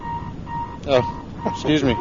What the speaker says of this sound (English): Sorry, that was my alarm clock.